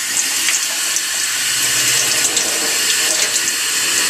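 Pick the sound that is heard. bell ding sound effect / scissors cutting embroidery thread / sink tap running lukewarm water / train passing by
sink tap running lukewarm water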